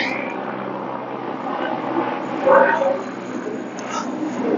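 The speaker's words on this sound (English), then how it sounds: "And there goes a plane." An airplane passes over a Minnesota garden in mid-October, a steady broad roar that swells slightly midway and fills the background throughout.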